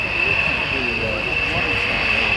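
MB-339 jet aircraft flying at the Royal International Air Tattoo at RAF Fairford, a steady jet whine with a high sustained tone over a broad roar, with a public-address voice talking over it.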